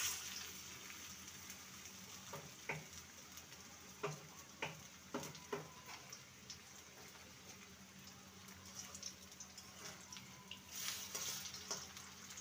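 Cabbage pakoras deep frying in hot oil, a steady close crackling sizzle with scattered sharper pops and occasional stirring clicks, no voices.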